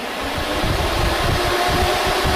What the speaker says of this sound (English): I'm thinking I might try to get this thing to run off of my little Ryobi battery here.